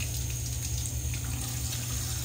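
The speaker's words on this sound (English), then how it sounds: "Let's rinse the face with some cold water" Cold tap water runs steadily from a faucet into a bathroom sink for rinsing the face after a shave, a constant close splashing hiss with no speech.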